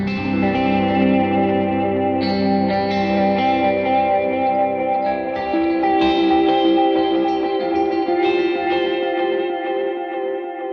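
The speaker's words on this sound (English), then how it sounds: "you'll hear the modulation kind of moving between your left and your right ears here" Ambient electric guitar run through a modulated stereo delay, with shimmering sustained chords and echoing repeats that swirl and blend together in a dense wash. The playing is continuous and fairly loud, with no talking.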